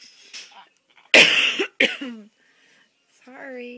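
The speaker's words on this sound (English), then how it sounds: "I know Mama's coughing a lot." A mother coughs close by, two loud harsh bursts in quick succession, with her soft apologetic talk before and cooing speech after.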